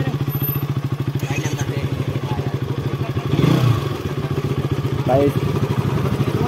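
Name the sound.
KTM motorcycle engine starting and riding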